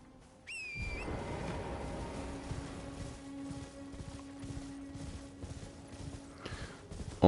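Steady clip-clop of horse hooves in Elden Ring trotting at a fast pace, with a high whistle-like tone at the start and a sustained game-like hum underneath.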